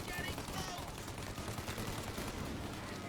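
Gunfire during a shootout in Mafia: Definitive Edition, a dense, continuous rattle of rapid shots blending into a steady wash of noise, with a voice talking faintly underneath.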